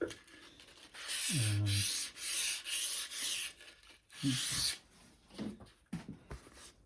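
Foam-backed sandpaper rubbing lightly over the surface of a wooden foot stool during finishing, in several close, loud strokes of a few seconds each with brief pauses between, then softer scuffs near the end.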